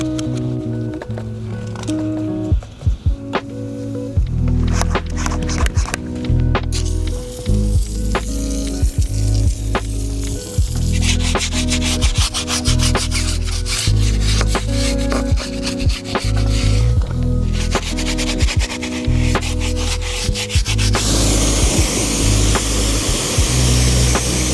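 Synthetic brushes scrubbing the wheels of an Audi R8 during a detail, loud wet rubbing and scraping in uneven strokes, close up and continuous with no talk.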